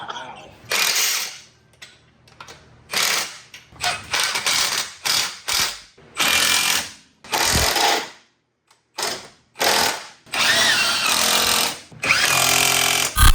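A Milwaukee power tool, likely an impact driver, fires in repeated loud bursts of a second or so each, with short pauses between them, close up while bolting parts onto a Polaris RZR Pro R.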